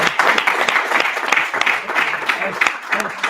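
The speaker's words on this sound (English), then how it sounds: "Please join me in a big round of applause for the jury here" A class of students claps for a jury in a university course session, a brief dense round of applause that stays steady and close for a few seconds.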